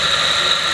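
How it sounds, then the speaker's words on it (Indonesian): A single-phase electric motor spins in reverse on a forward-reverse contactor circuit, a loud, steady whine with a high constant tone and no other sound. "Motor berputar ke kiri dan lampu kembali hijau sebagai tanda running."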